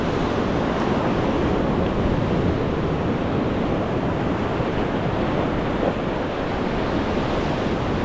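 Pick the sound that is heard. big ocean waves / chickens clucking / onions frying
big ocean waves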